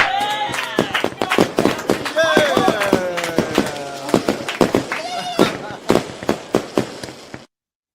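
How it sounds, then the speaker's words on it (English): Fireworks pop and crackle in rapid, irregular bursts of sharp close bangs, with whistling tones sweeping through, all cutting off abruptly at the end. "We're going to let off some fireworks"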